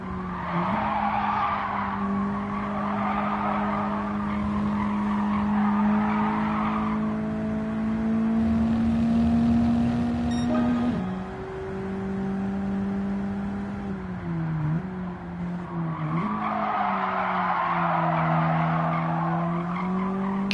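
Mazda MX-5 race cars lapping Tsukuba in Gran Turismo 7, a steady engine drone rising and falling through gear changes with bursts of tire squeal through the corners.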